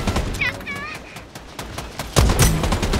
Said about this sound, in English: Where did he shoot you from, Ruby?